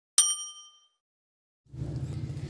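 A single bright notification bell ding rings out clearly and decays over about half a second, followed after a pause by a low rumbling background noise.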